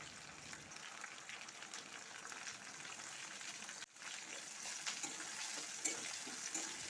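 Browned onion and chunks of tomato fry in a pan, a soft, steady sizzle with stirring scrapes that briefly dips before picking up again.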